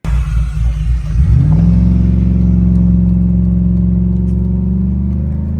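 A cammed Chevrolet Silverado truck engine rumbles loudly and close, a brief rising rev giving way to a steady, deep idle that holds without any talking.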